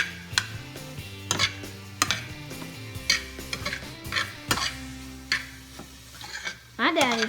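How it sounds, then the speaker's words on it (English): Meat and onions cooking in a pan for spaghetti meat sauce, a faint sizzle under frequent clanks and scrapes of utensils against the pan, with a voice heard briefly. "So we added the meat back in with the onions"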